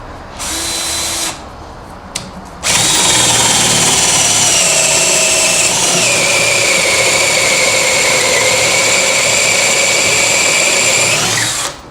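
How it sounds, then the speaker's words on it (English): A power drill whirs loudly, briefly starting and stopping, then runs steadily for several seconds while boring at an angle into a scrap piece of wood before winding down. "It's just a scrap piece of wood I'm drilling here."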